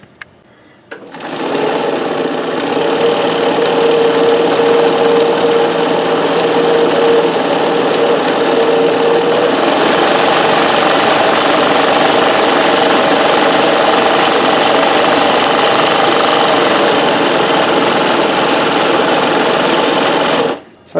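A Janome 672 sewing machine runs steadily at full speed for about twenty seconds, a loud, even mechanical whir and rattle that starts abruptly and cuts off at the end, with no talking.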